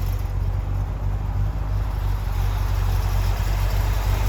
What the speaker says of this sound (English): that motor is about as quiet and as smooth and as finely tuned as you're ever gonna find